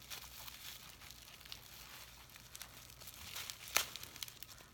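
Crinkly plastic or paper packaging rustles and crackles continuously up close, with one sharper crackle near the end.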